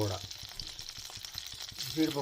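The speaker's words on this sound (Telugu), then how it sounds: "ఇలా పచ్చిమిర్చి వేగుతున్నప్పుడే ఇందాక మనం మినపప్పు, జీలకర్ర, అల్లం అవన్నీ వీటిలోనే ఫ్రై చేసుకోవాలి లైట్గా" Green chillies frying in oil with urad dal, cumin and ginger, a close, soft sizzle with regular stirring taps, while a voice talks faintly in the background.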